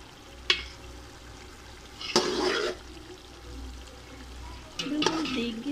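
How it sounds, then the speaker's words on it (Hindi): Marinated mutton added to browned onions frying in a pot for degi-style biryani, with a steady low sizzle and bursts of stirring and scraping near the mic, some sharp clatters, and no talk. "प्याज को ब्राउन किया और उसके अंदर मैंने डाल दिया है गोश्त।"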